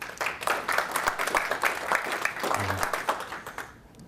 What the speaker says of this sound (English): Everybody give them a round of applause, please.